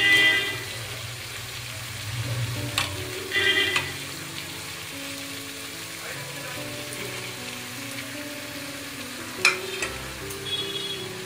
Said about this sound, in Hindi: अभी आप इसमें जो पार बॉयल आपका पपीता है, कच्चा पपीता, उसे आप डाल दीजिए।